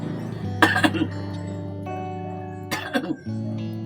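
An elderly woman coughs indoors, a few short harsh bursts near the start and again later, standing clearly above a steady low background hum.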